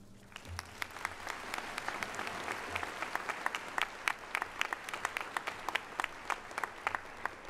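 Sustained audience applause at a spring university commencement ceremony, a dense wash of many hands clapping with sharper individual claps standing out, steady and fairly loud throughout.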